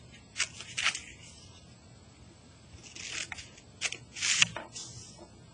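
Scissors snip through paper along printed lines, a few quiet, short bursts of cutting spaced irregularly, close by with no talking.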